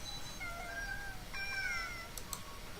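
A small cat gives a couple of soft, drawn-out meows, fairly faint against a steady low background hum, with no talking.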